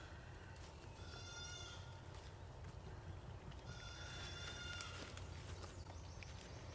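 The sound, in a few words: goats bleating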